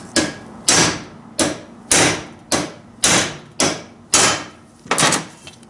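A hammer strikes a socket to drive a worn bearing out of a Kawasaki KX250F engine during teardown: about nine sharp metallic blows, close and loud, spaced roughly half a second apart with brief ringing after each.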